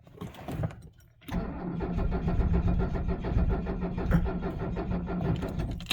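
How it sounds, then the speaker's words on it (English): A 1978 Mercedes 300 SD diesel grinds through a long starter crank on a cold start in freezing weather, the batteries draining. A brief crank and pause come first, then steady labored cranking that never catches. "we're draining the batteries, I'm sure you can hear."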